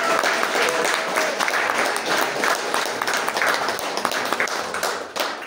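An audience applauds at a book launch for a novel, with a continuous round of dense clapping that stays fairly loud and close throughout and has scattered sharper hand claps within it.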